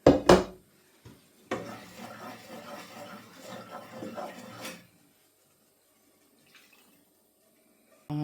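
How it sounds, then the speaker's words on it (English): Red wine hits a hot frying pan holding browned beef bits, giving a close sizzling hiss that lasts a few seconds and then fades. A sharp clatter from the pan comes just before it. "Just going to get some of the bits out of this frying pan with some of this red wine."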